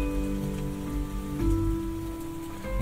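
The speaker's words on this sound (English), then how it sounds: "Rainy day, that's a classic." A rainy-day nature soundscape plays from the infotainment system of a 2024 Kia EV9, a steady close wash of rain pattering on a surface with a faint low hum beneath, with no talking.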